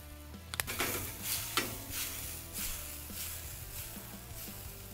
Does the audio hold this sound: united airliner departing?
no